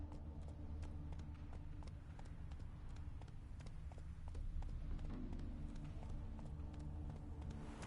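Galloping hooves of Roach, the horse in The Witcher 3, beat in a steady repeating clip-clop rhythm throughout, close and continuous over a low ambient game soundscape.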